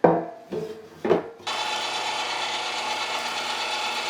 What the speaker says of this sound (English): Grinder's cold, meat is cold, foot pedals attached. Time to grind it up.